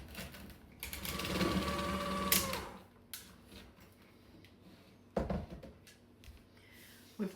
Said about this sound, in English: I want to cream this for about 2 to 3 minutes